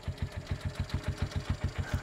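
Tempo vehicle engine worked hard after a long climb, running alone with a steady, regular throbbing pulse of about six beats per second, moderately quiet and close.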